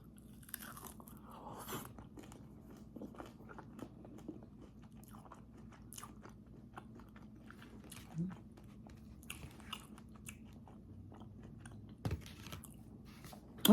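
Crunchy bites and chewing of a crispy salsa and cheese snack, close and fairly quiet, with sharp crunches scattered over roughly fourteen seconds against a low background hum.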